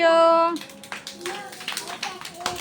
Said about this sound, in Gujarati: ચાલો બધા પોતપોતાની તાળી પાડી